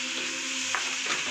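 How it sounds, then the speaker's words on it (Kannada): Almonds and chopped tomato fry in a pan for paneer masala, a steady close sizzle with stirring scrapes and a brief louder burst as the tomato goes in. "ಮತ್ತು ಈಗ ಫ್ರೈ ಮಾಡ್ತಾ ಇದ್ದೀವಿ"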